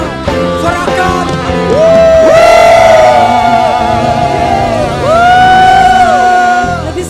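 A Christmas Day church congregation cheers and whoops loudly in two long swells of voices, shouting and yelling with rising, sliding calls that fill the room before fading slightly.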